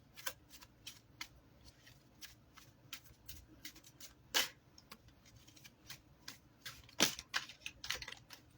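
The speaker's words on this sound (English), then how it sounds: "Let's get some cards against humanity cards." Cards Against Humanity cards handled and shuffled at close range, with crisp scattered snaps, flicks and short riffles at an uneven rhythm over a quiet room and no talking.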